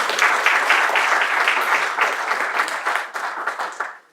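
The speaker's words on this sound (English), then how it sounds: "I think a round of applause is" A small audience at an ecommerce speaker series event gives a round of applause, steady and fairly close, with distinct individual claps that thin out and stop after about four seconds.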